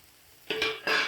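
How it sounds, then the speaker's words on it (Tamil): A spoon stirring and scraping boiled tapioca poriyal in a pan, with two short, fairly loud bursts of scraping after a quiet start. "இப்போ நல்லா கலந்து விட்டுடலாம்."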